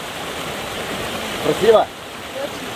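The Zhigalan river waterfall rushes as a steady, loud broadband roar throughout, with a brief spoken question partly over it.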